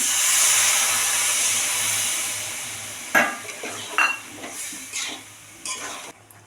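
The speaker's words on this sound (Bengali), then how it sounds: "এবার আমি এক বাটি জল দিয়ে দেবো।" A bowl of water goes into a hot pan of peanut and poppy seed paste for an okra dish and sets off a broad hiss lasting a few seconds. Several close, distinct spoon scrapes follow.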